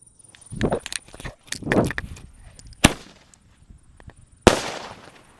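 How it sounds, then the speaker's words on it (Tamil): A second-size Diwali sky shot firecracker bursts with a sharp bang near 2.9 s and a louder crack near 4.5 s, following scattered crackling and rustling noises; no talking. "இப்போ நம்ம ரெண்டாவது சைஸு ஸ்கை சாட்டை தாங்க விட்டு பார்க்க போகிறோம்"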